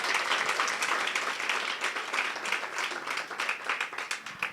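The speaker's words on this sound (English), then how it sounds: "Please give them a warm round of applause." A conference audience at the African Women in Media Awards applauds keynote speakers: sustained, dense clapping at a steady moderate level throughout, with no talk over it.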